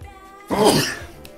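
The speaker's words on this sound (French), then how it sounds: "Un gros éternuement en rab" One big, forceful sneeze bursts out mid-clip during a home unboxing, loud and close, with a quiet room before and after.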